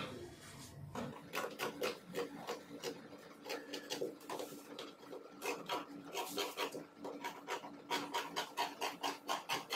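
Scissors snipping through fabric pattern pieces for a kimono dress, a steady run of crisp rhythmic cuts close to the microphone, with brief pauses between bursts.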